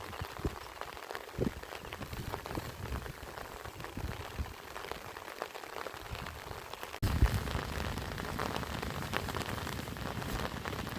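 Heavy rain pours steadily on surfaces around a rice field, a dense continuous hiss that jumps suddenly louder partway through and keeps drumming without pause.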